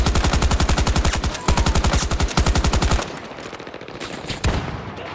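Rapid automatic gunfire in the shooter game Battlefield 2042, a loud, steady stream of closely spaced shots in two long bursts, followed by quieter, sparser shots from further away.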